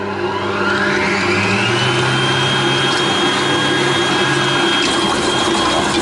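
A Kenwood stand mixer whisks a small quantity of mixture for a chocolate Yule log with a steady, loud motor whir, its whisk scraping the bottom of the tilted bowl and adding a continuous rising whine.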